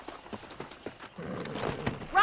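Horse hooves clip-clop at a steady rhythm in the Red Dead Redemption video game as the horse is ridden, fairly faint at first, then buried under a louder rush of ambient game sound.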